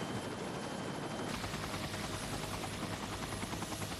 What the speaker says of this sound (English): We stood there until a helicopter was out of sight